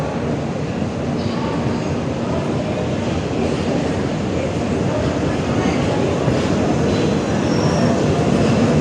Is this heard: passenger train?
yes